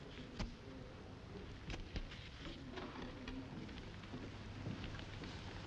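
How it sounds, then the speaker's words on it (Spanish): Steady rain falls on a rainy day, a continuous soft patter with a few louder drips and distant rumbles, fairly faint and alone with no voices. "No para de llover"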